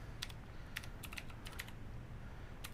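Quick bursts of typing on a computer keyboard, close and clear, several short clusters of key presses with brief gaps over a low background hum.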